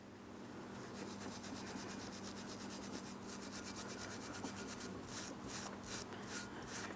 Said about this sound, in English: For this, you can use a wire brush or continue on with a sanding disc.